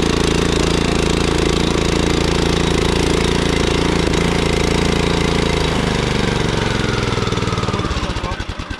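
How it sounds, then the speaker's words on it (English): A Billy Goat walk-behind brush cutter's small engine runs loud and close with a steady, rough mechanical drone, then the pitch drops and the engine slows into sputtering pulses near the end. "there's a pull cord right here, and we'll go ahead and get her running right now"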